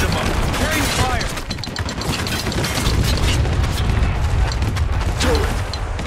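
Mortar rounds fire and explode in Spec Ops: The Line amid dense, continuous battlefield noise, with heavy booms and mechanical clatter throughout and shouted voices mixed in.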